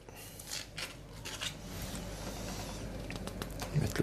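Cauliflower heads cut into florets for a vegetable bouquet, with repeated crisp snipping and crunching close by, short irregular cuts over a steady background murmur.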